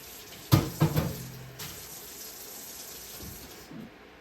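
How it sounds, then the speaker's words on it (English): A glass kombucha jar is rinsed under a kitchen tap, with a few hollow knocks of glass at the start over a steady, close rush of running water. No one speaks. "I'm going to rinse this glass to get it ready for the next batch"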